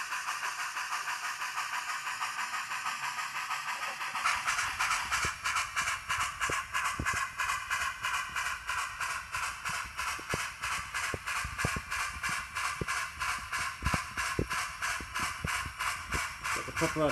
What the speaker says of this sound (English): Got the proper articulated cylinder chuff, so they go in and out of sync.